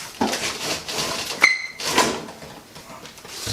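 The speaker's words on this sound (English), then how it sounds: "So the first thing we have to do is take out the drawers" Kitchen drawers pulled out of a cabinet, a few sliding scrapes and a sharp clack from the runners, fairly close, with a brief metallic ring.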